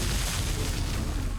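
A gunshot in the zombie survival game 7 Days to Die lands as a dense, booming blast. It fills the whole short moment at a steady loud level, with no voices.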